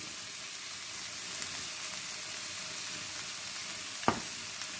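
Vegetables stir-frying with salt and white pepper for a chicken vegetable dish give a steady, soft sizzle throughout, with one sharp clatter of a utensil near the end.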